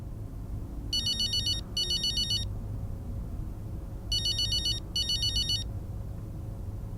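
A telephone rings in two pairs of short electronic trilling bursts, a pause between the pairs, heard clearly over a low room hum with no talking.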